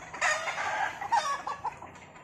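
A ten-month-old gamecock rooster clucks and calls in a short run of bright, close vocal bursts, with no talk over it.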